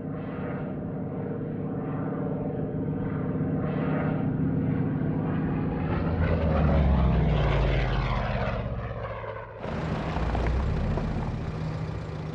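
Republic P-47 Thunderbolt propeller fighter aircraft flying in England, a loud droning piston engine roar that swells and sweeps past as it passes, then continues steadily, with no voices.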